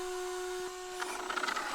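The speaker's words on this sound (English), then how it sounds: "can you guys hear that Protec fan? It's howling away. Sounds like a vacuum cleaner." Protek cooling fan on a Traxxas Drag Slash RC car built as a 1969 Chevy Nova SS, howling steadily with a sustained high tonal whine, joined after a second by busier, rising mechanical whirring.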